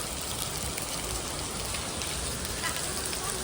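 Rain falls steadily onto the ground close by, a dense, continuous hiss and patter that holds at an even loudness from start to finish.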